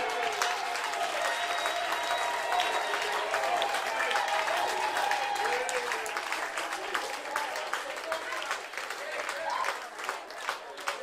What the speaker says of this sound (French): Oh, donnez-moi une acclamation.